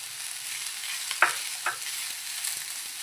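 Cloves and two cardamom pods roasting in oil in a pan give a steady, close sizzling hiss, broken by a couple of sharp clicks from a stirring spoon.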